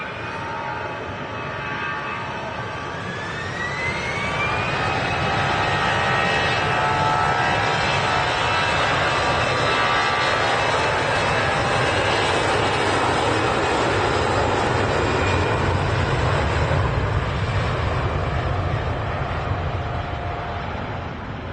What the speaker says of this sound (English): That EasyJet heading off to Kos in Greece.